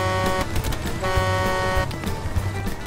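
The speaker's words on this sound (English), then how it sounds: "I was honking the horn that time." A car horn in a video game honks repeatedly in long blasts with short gaps, loud and close, over engine and game noise.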